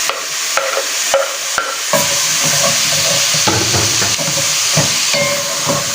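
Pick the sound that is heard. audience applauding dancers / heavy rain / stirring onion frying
stirring onion frying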